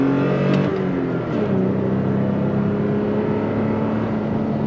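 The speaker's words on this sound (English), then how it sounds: "decent sound out of the catback exhaust, that TRD catback exhaust" A 2022 Toyota Tacoma TRD Pro with a 6-speed manual and TRD catback exhaust accelerates on throttle from a roll, its engine a loud, steady, deep drone whose pitch climbs gradually with no one talking.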